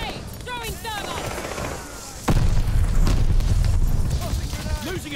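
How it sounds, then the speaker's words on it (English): A thermite grenade goes off in Call of Duty: Vanguard on the Shipment map, a sudden loud boom midway that leaves a heavy low rumble, amid gunfire and game voice lines. "Incoming grenade. Throwing thermite."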